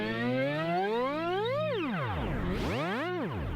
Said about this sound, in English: you can get some kind of weird tape stop effects going on